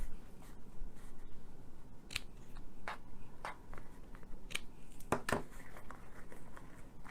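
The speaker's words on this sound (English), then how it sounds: "I'm just going to trim these" Scissors snip paper craft pieces for a Mother's Day gift box in a quiet room, giving a string of short, faint cuts at an uneven pace, with two quick snips close together near the end.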